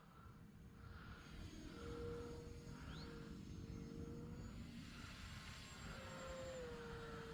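Electric motor of a Turbo Timber Evolution RC plane running on a 4S 4000 lipo, a steady whining drone with a rising pitch sweep, heard at moderate distance outdoors in calm conditions.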